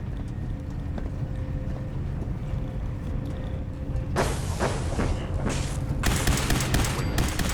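Gunfire in the video game Fallout 4 breaks out partway through over a low rumbling game ambience, with sharp broadband bursts and rapid repeated shots, loud and close.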